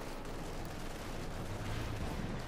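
Artillery and gunfire in a Company of Heroes 2 battle, with dense rumbling explosions and overlapping shots forming a continuous loud barrage.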